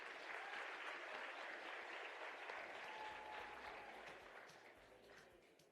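An audience at a national skills competition closing ceremony applauds, a broad, dense wash of clapping heard from a distance, sustained evenly and then slowly thinning toward the end.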